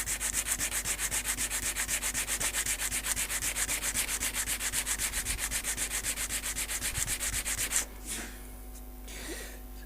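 Sandpaper rubs back and forth on a Barnes and Mullins banjolin in a fast, even scratching rhythm, loud and close for about eight seconds before stopping, followed by a quiet pause and a few light scuffs.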